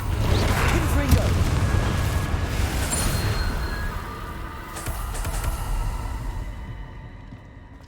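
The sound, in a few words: Confringo spell blast exploding in video game Hogwarts Legacy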